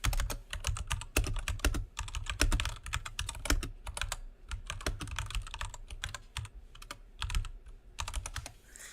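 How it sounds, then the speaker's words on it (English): Rapid typing on a computer keyboard during a robotics team's kickoff practice, a dense clatter of keystrokes in bursts with brief pauses, close and fairly loud, with no talking. "That's some great typing right there."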